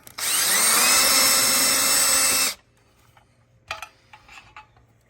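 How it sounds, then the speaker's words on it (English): A power drill whines loudly and steadily for a couple of seconds drilling a pilot hole for outdoor light installation, then stops, followed by a few faint clicks and taps. "So drill a pilot hole."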